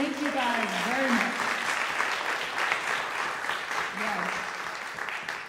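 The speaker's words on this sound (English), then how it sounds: "So let's give them a round of applause." Audience applause for young jazz performers at a summer workshop combo concert, steady clapping from the crowd while someone speaks over it near the start and briefly again later.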